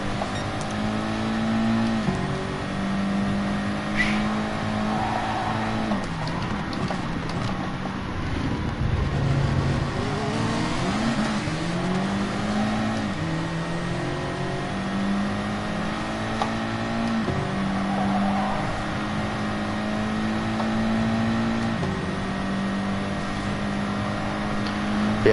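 An untuned Gr4 RS01 race car engine drones through a Manufacturer Cup race at Suzuka in Gran Turismo Sport, the video game. The note rises and drops steadily through gear changes, with faint other cars in the background.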